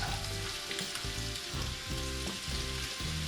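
Onions frying in a pan with lobster meat at a campsite, a loud continuous sizzle and crackle close by, with no talking.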